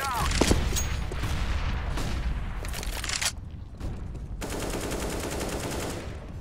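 In a CS:GO match, a grenade is thrown and explodes amid loud gunfire. Dense bursts of shots come first, then a brief lull, then a sustained broadband blast that rumbles on to the end.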